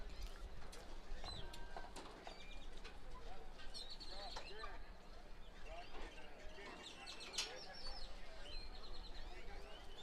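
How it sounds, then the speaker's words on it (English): Birds chirp and sing in repeated bursts at an outdoor 8th grade football game, bright calls over steady background noise and a faint murmur of distant crowd. "I hear the birds singing again, Billy."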